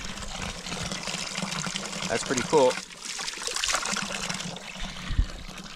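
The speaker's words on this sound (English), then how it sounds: "we're back and the water is actually running rather well. And it's a full stream now." Water runs in a steady, close trickle from a camp water line fed by a stream and carried about 800 feet, with a brief spoken remark over the flow.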